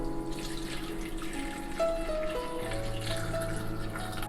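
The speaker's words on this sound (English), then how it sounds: "add some water" Water pours in a steady, close trickle into a blender jar already holding lemon juice, jalapeno, salt and red chili flakes for a falafel green sauce, with no talking.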